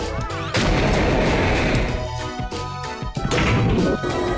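Explosions in The Lost Vikings 2 video game: loud, dense booming blasts and crashes that fill the clip, with brief dips between bursts and no talk.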